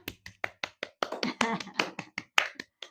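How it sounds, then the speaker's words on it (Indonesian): Hands clap in a quick, fairly regular rhythm of about fifteen crisp claps, close and moderately loud, with no voices over them. "Tepuk tangan dulu untuk kita semua."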